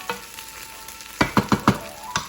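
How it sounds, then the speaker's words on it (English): A spoon stirs and presses hashweh rice stuffing flat in a pot, giving a short run of four or five quick, evenly spaced scraping knocks after a quiet start, with no voices. "I'm going to give it one last stir"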